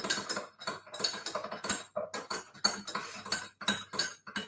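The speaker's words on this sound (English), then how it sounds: "That's the most aggressive I've ever heard anybody stir a cup of tea in my life." A teaspoon clatters hard against the inside of a teacup in fast, aggressive bursts of metallic clinks and scrapes, close and fairly quiet, with short pauses between the flurries.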